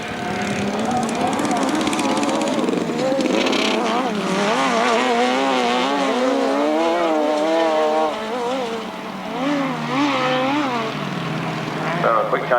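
Grasstrack racing machines at the 1991 Woolpack Corner meeting, engines wailing and rising and falling in pitch as they lap; several loud motors overlap continuously, with a commentator speaking over them.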